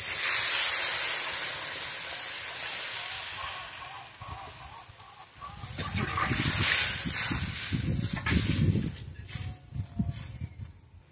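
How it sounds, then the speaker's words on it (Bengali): Water poured over spices frying with potatoes in a pan sets off a loud steaming sizzle and hiss that starts abruptly partway through and swells with bubbling crackle, after a steady quieter frying hiss. "মশলাটা হালকা ভেজে আলুর সঙ্গে জল দিয়ে দিলাম।"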